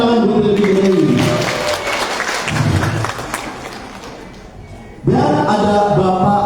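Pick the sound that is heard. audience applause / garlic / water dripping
audience applause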